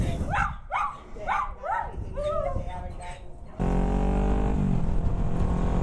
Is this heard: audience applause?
no